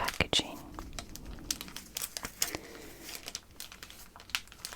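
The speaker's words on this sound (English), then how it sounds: "So we'll have some unwrapping sounds," Crinkling and tearing of plastic and paper packaging as a cardboard model kit of the Admiralty Spire in St. Petersburg is unwrapped, close and quiet with irregular crackles and rustles throughout.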